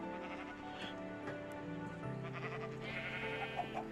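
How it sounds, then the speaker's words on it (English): Several sheep bleating in Minecraft, a few wavering bleats overlapping one another, moderately close and clear over a quiet background, with no talking. "How did all but 2 sheep escape from this pen?"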